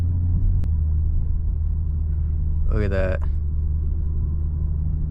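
Steady low engine rumble from a 2023 BMW M340i while driving, a continuous deep drone under a brief spoken remark from someone in the car.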